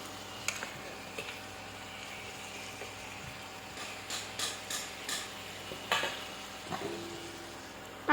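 Three green chillies cut into pieces cooking in a pan, a soft low sizzle under occasional scrapes and taps of a stirring utensil against the pan, quiet and close.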